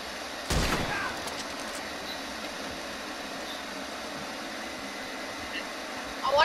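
Gunshots in a video game: one sharp loud shot near the start, then faint scattered pops over a steady hiss and low background noise.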